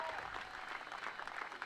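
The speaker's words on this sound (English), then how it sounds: "William and Mary just giving a nice round of applause to that young man" A baseball crowd at a William & Mary versus Delaware CAA championship game gives a steady round of applause for a young player, dense clapping held at an even level throughout with light crowd murmur.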